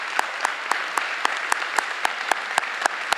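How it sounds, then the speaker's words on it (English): Audience at a middle school 8th grade recognition ceremony applauds the honored students. Steady, moderate clapping is punctuated by regular sharp, louder claps close by. No talking can be heard. "Give them a large round of applause as well."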